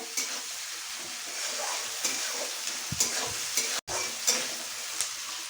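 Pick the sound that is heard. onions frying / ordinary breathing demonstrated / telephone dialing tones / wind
onions frying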